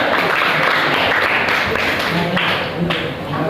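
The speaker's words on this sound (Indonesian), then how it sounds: "tepuk tangan dulu buat kelompok 2" Classroom applause for a student group, a brisk, dense clapping from a room of people, close and loud throughout with slight dips, and a few voices mixed underneath.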